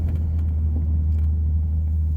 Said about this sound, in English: I deleted the mid silencers, which gives you that slightly, I would say, throatier sound